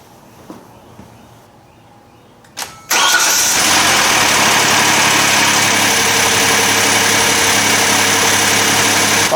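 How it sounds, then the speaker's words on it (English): A Hyundai car engine cranks briefly and catches after a few quiet knocks, then settles into a steady, loud idle heard up close with no talking. "Let me go start the engine"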